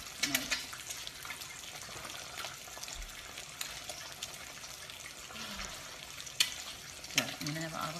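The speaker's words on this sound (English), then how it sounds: "I'm gonna have avocado with my fried eggs that I fry in olive oil" Eggs frying in olive oil in a home kitchen, a steady soft sizzle with faint crackles and occasional clinks of utensils throughout, with brief voice sounds in between.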